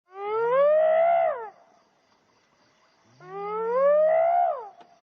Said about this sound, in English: This is a hyena.